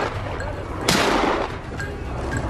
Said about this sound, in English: rifle raised, aim fired